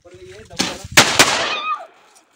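Firecrackers set off in a village during Diwali celebrations, giving two or three sharp, loud bangs close by, followed by a crackling tail, with voices faintly in the background.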